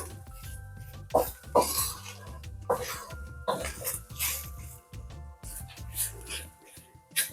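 Egg mixture being stirred in a cooking pan, with repeated scraping clinks of a utensil against the pan in irregular strokes, close and moderately loud, amid brief throat sounds and quiet background.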